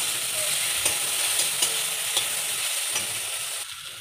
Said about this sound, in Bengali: পেঁয়াজটাকে আমি একটু ভেজে নেব।